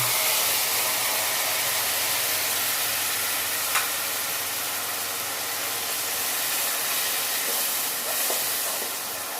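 A paste of ground ginger, garlic, cumin and three green chillies fries in a hot pan, giving a steady, loud hiss and sizzle that runs unbroken throughout, with a couple of faint clicks and no talking.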